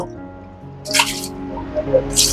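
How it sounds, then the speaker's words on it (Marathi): Water is poured and splashes in two short bursts, with a few small drips in between, close by and fairly quiet. "आता मी पाणी ओतणार आणि बघा अशा रीतीने हा"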